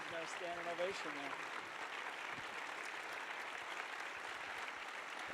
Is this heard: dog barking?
no